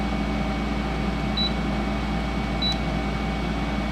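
Window air conditioner with its fan switched to high speed, giving a steady, fairly loud broadband whoosh with a low hum that runs unbroken throughout, plus two faint brief high tones partway through.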